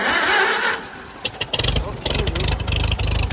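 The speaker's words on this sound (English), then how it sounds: "I hit it one time and it didn't start" A Farmall M tractor engine is cranked once without starting, giving a burst of loud, chugging low-end turning over after a stretch of voices talking, then fading.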